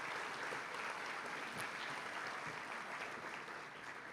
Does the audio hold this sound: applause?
yes